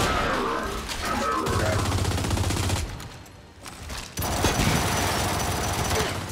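Gunfire and a grenade blast in the video game Gears 5 during insane co-op, rapid dense bursts of shots with crashing impacts, a brief dip into quieter rumble, then heavy firing resumes loudly.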